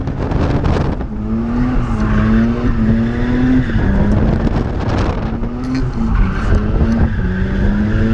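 Mazda RX8 drifting in practice, engine revving in bursts against sustained tire squeal, close and loud with throttle rising and falling throughout.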